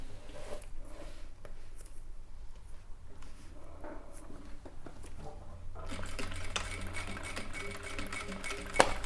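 A sewing machine stitches an oval seam on a handbag, with quiet bursts of needle clatter at first, then a steadier, denser mechanical rattle in the last few seconds, all without speech.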